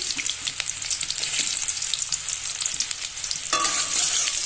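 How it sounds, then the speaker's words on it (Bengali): Sliced onions and dried red chillies sizzle in hot oil in a pan, a dense steady crackle with occasional stirring scrapes, close and fairly loud, with no voices. "পেঁয়াজ আর লঙ্কাটা লাল লাল করে ভাজা করে নেব"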